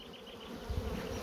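Honeybees buzzing around a pair of plastic beehives, a short close hum with a louder low swell partway through, no voices.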